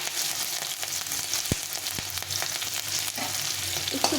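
Chopped ginger, green chilli and garlic sizzle steadily in hot oil in a pan, close and loud, with occasional sharp taps of a spoon against the pan.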